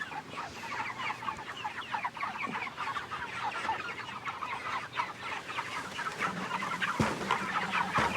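Flock of farm chickens clucking steadily and densely for several seconds, many overlapping calls close by with constant barnyard bustle and no talk.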